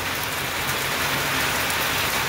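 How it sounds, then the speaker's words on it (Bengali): Heavy, steady downpour of monsoon-style rain pattering densely and continuously on a rooftop, loud and close with no break, no voices. "এদিকে মুষলধারা বৃষ্টি নেমে গেছে"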